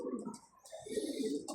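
Pet pigeons cooing softly in a series of low, rounded calls, fairly close, with a brief higher chirp near the end and no talking.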